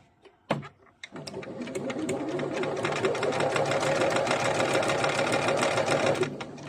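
A portable Japanese Singer straight-stitch sewing machine, a 100V tabletop model, runs in one steady continuous burst of rapid stitching after a couple of brief clicks, close and fairly loud, then stops.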